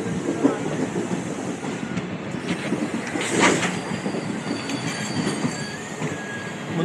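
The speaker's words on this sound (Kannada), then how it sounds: "ಟ್ರೈನ್ ಮುಂದೆ ಹೋಗ್ತಾ ಇದೆ" A passenger train rolls along the rails between Bengaluru Cantonment and Dharmapuri, a continuous close rumble with wheel squeal and rhythmic clickety-clack throughout.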